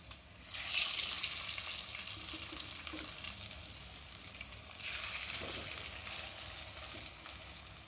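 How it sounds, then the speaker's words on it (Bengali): Pieces laid one by one into a pan and frying on low heat, a soft, quiet sizzle that swells in two gentle bursts with faint stirring and clinks between. "এর মধ্যে আমি একটু এগুলোকে ভাজা করে নেবো একটা একটা করে দিয়ে।"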